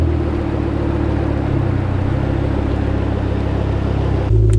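Ford Focus RS Mk2 with its five-cylinder engine on a drive, a steady deep rumbling drone heard close from inside the car, with a heavier low thump right at the end.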